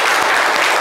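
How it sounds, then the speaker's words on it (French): An audience applauds loudly and steadily in a TV studio. The clapping is dense and continuous throughout the short stretch, and no voice rises above it. "Applaudissez-vous bien fort"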